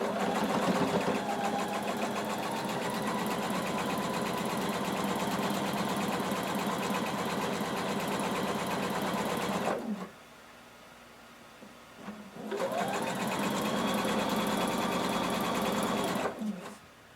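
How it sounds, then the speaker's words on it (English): A sewing machine stitches the hem of pant legs in a long steady whirring run, stops briefly, then starts again for a second run, close and clear with no speech over it. "we're going to sew the entire hem of both pant legs."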